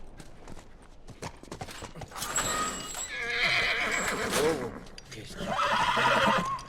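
Horse in The Last of Us video game whinnying repeatedly with clip-clopping hooves, the neighs rising loudly over the second half, while a person talks quietly in between.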